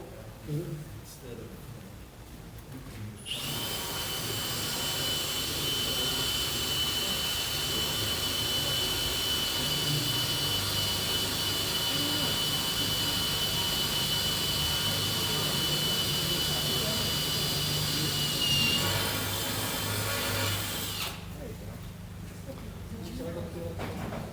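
A loud, steady high-pitched whine of a power drill with a brand-new bit runs continuously for about twenty seconds, starting and stopping abruptly, with faint voices before and after, at a blacksmithing hot cut and punch demo.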